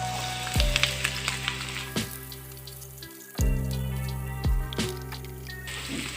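Ridge gourd pieces added to mutton frying with onions in a pan, loud sizzling that flares up in several bursts as more is dropped in, then settles into a steady hiss.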